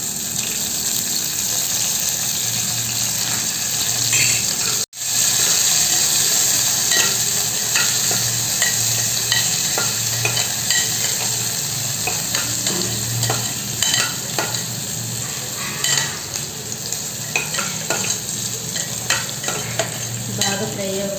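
Oil frying in a pan for tomato bath, a loud, steady sizzle with continuous stirring and scraping throughout, briefly cutting out once before resuming, close and without talk.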